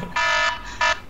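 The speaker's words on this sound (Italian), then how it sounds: "è partito il timer che ci avvisa che dobbiamo smettere perché sono quasi finiti i 15 minuti" A timer alarm goes off as fifteen minutes run nearly out: two loud, harsh electronic buzzes, the first longer and the second short, sounding alone.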